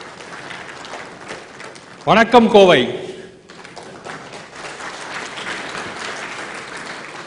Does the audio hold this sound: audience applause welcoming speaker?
yes